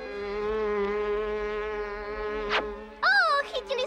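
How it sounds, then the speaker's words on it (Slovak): A cartoon purple fly from the Smurfs buzzing in a steady, sustained drone that ends with a sharp swipe, followed by a brief high chirping voice. "Ó, chytili sme purpurovú muchu."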